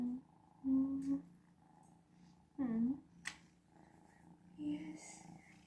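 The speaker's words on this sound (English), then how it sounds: "Hear her purring?" A cat purrs softly and steadily, close by, while someone speaks in gentle, affectionate bursts over it.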